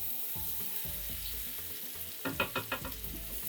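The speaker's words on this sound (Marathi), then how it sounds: "त्यात घालूया 1 चमचा आलं लसूण हिरव्या मिरचीची पेस्ट." Ginger, garlic and green chili paste frying in oil, a quiet steady sizzle that turns into several quick, distinct stirring scrapes in a row near the end.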